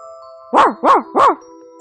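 Three short, sharp dog barks in an even rhythm, close and clear over a faint steady electronic tone.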